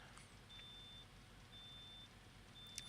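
A car's tire pressure alarm beeps in cold weather, three evenly spaced thin high electronic tones, fairly faint over a low engine hum, with no talking.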